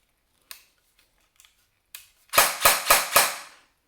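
Tokyo Marui HK45 electric airsoft pistol fired without a suppressor: a few faint clicks, then four loud, sharp shots in quick succession, each with a brief mechanical clack, up close and with no talking.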